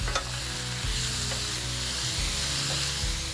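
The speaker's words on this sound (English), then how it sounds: "we're going to cook that until the pork is done and no longer pink" Ground pork sizzling in a pan with a steady frying hiss and occasional stirring scrapes, close and continuous with no talk.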